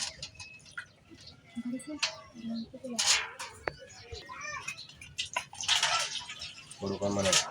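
Surmai fish pieces being washed in water, with splashing and sloshing heard under steady talk and occasional birdsong.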